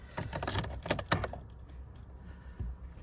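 Car keys for a 2014 Fiat 500 Lounge jangle close up in a few quick metallic bursts of clinking, then settle into quieter handling noise.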